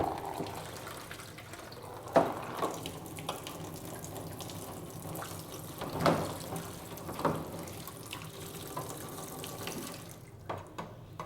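Platinum print being rinsed in water, a quiet ongoing trickle and slosh of water in a tray or sink with a few soft splashes as the print is moved, alone and fairly close.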